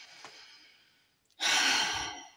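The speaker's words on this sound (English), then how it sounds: "So take a deep breath." A deep breath is drawn softly, then after a brief pause a loud, breathy exhale rushes out through the mouth, close and alone with no talking.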